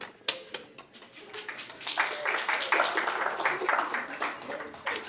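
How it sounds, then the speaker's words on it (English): Applause at a city council meeting, starting with a few scattered claps and building into steady clapping from the room, with some speech mixed in. "So I think they deserve a round of applause."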